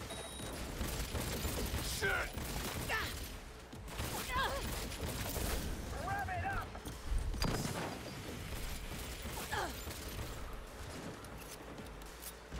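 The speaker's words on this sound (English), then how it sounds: "I'd really like to have it stop shooting me." Enemy gunfire in Cyberpunk 2077 crackles as scattered, fairly quiet bursts over a busy, muddled game soundscape, with a heavier impact near the middle of the stretch.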